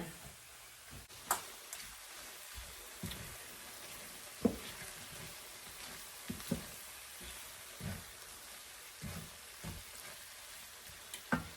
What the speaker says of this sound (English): So I'm just gonna stir together this batch of spinach and just get it all mixed in there.